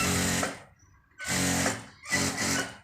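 A sewing machine stitches vintage fabric in three loud, close bursts of rapid mechanical whirring, each about half a second long, separated by brief near-silent pauses.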